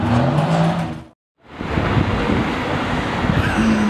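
An Audi R8 V10 supercar sweeps past on a city street in Toronto, a loud close rush of engine and wind noise that cuts out briefly before a second roaring pass.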